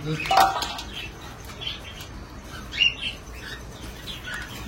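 Caged pet birds in a home aviary give sharp chirps and tweets, one bright call up front and scattered fainter chirps later over low background noise.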